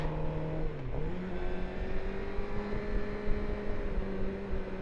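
A Suzuki GSX-R600 motorcycle accelerates through a double-left series of corners, its engine note dropping briefly at a shift and then climbing steadily as a sustained, moderately loud whine over wind rush.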